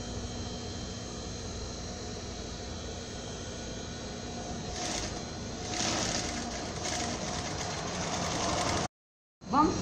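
A sewing machine stitches the shoulder seam of a baby's shirt with a continuous mechanical hum that swells slightly midway, then stops abruptly before a short restart.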